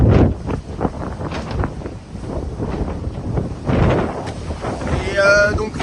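Strong wind of 20 to 25 knots buffets the microphone aboard a sailboat on a choppy, crossed sea, a loud, gusting roar that rises and falls throughout.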